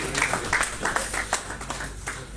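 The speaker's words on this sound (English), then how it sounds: "I think the round of applause was not great enough" A short burst of audience applause at a welcome ceremony, steady clapping from a crowd held at moderate loudness with a faint voice beneath.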